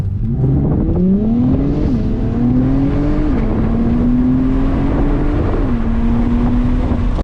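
A 2021 Acura TLX Type S accelerates hard from 0 to 60, its engine note climbing loud and close through several upshifts with brief dips between gears, backed by steady road and wind roar.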